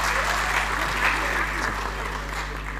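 An audience at a festival talk on environmental protection applauds in a dense, continuous wash of clapping, loud and sustained over a steady electrical hum.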